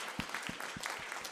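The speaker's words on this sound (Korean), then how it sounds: "이 시간 경례의 박수 한번 하겠습니다." Church congregation clapping during a Christmas worship service, faint and distant, with a few soft claps over a low room murmur.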